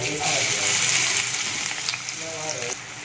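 Chopped onions go into hot oil seasoned with asafoetida and sizzle loudly and steadily up close, with a light stir and faint background noise. Made for a restaurant-style Punjabi kabuli chana masala.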